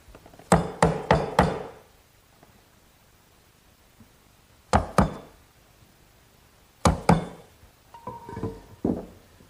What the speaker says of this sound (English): I'll chisel out the remaining corners